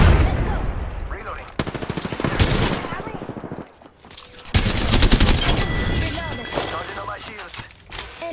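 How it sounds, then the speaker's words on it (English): Video game gunfire, dense bursts of rapid automatic shots and loud impacts packed close together, briefly easing off midway before another heavy volley, with a player talking over the shooting. "Listen up, I'm getting shot at."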